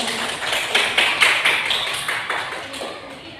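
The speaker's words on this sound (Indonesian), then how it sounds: "Tepuk tangan dulu" A small group in a classroom claps together after a group presentation, giving a short run of distinct, fairly close claps with a loose rhythm that gradually softens.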